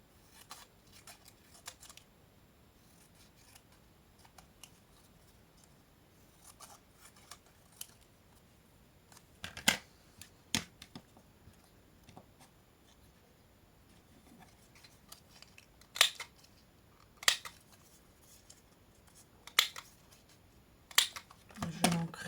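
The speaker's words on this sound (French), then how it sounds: "Le joyeux anniversaire, je vais le découper à la main." Paper being cut by hand with scissors to free 'joyeux anniversaire' lettering for a handmade card: faint intermittent snips, scattered through the first half and sharper, louder clusters of quick cuts in the second half, with no talk.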